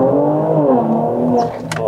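Mercedes-Benz GLE 400 SUV in sport mode accelerating hard, a loud, close engine note with rising harmonic pitch that dips briefly before a sharp burst near the end.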